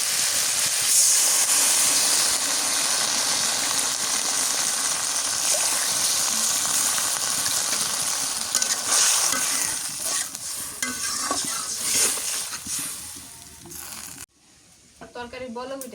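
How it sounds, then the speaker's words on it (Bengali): Fish curry cooking in a pot in a village kitchen, a dense bubbling sizzle with stirring throughout, close and loud, with a voice briefly heard near the end as the sound drops away. "তরকারি বলক উঠে গেছে, মাছ দিয়ে দিই।"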